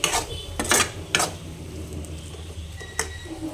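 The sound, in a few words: chili powder sautéing in oil for dried fish curry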